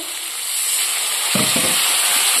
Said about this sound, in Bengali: জল দিয়ে মশলাটা কষাতে হবে।